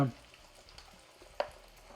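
Eggplant and tomatoes fry in a pan with a soft, steady sizzle, faint and continuous, with a brief sharp stir or clink partway through.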